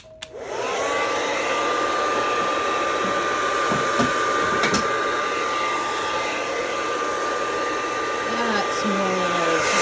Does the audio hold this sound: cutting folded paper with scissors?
no